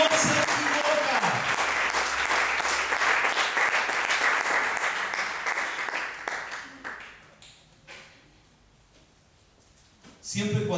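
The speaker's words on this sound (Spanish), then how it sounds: "Le podemos dar un aplauso fuerte al Señor." A church congregation breaks into strong applause during a Spanish-language service, loud and steady clapping for several seconds that fades away into near quiet before a brief burst returns at the end.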